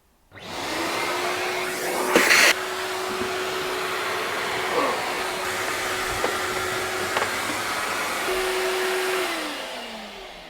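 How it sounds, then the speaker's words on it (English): A vacuum cleaner runs continuously and close up, sucking up metal drill shavings inside an Elddis CV 40 camper van, with a steady motor whine and brief rattling clicks as debris is pulled into the hose. "I'm going to quickly hoover those up now"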